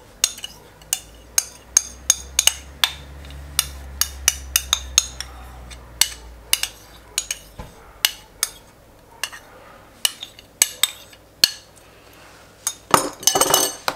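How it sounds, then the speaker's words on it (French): A homemade dip is scooped into a small serving pot, with a run of light, sharp clinks and taps of a utensil against the pot and dishes, close by and irregular, ending in a brief busier clatter. "on va la mettre dans un petit pot pour la présentation. Donc on verse tout dedans"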